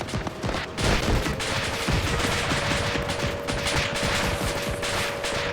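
Sustained automatic gunfire is aimed at a ship taking off in a military video game: dense, loud, overlapping bursts of rapid shots with no pauses, nearby and continuous.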